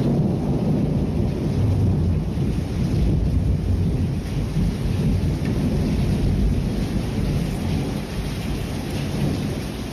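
Heavy rain pours steadily and loudly throughout, with deep rumbles of thunder rolling beneath the downpour.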